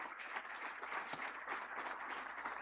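A church congregation applauds steadily, a dense even wash of clapping heard from some distance at low volume, with no voices over it.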